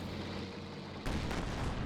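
A Pershing tank fires its cannon in a war video game, a single sudden heavy boom cutting in about halfway through over a steady background rumble.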